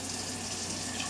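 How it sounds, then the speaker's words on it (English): Tap water runs steadily into a cooking pot at a stove, a continuous soft rushing hiss. "I'm going to put a little bit more water"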